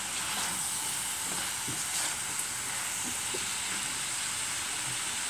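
Bottle gourd sautéing in a pan, a soft, even sizzle and hiss with a few faint scrapes of stirring, moderately quiet and unbroken, with no voices.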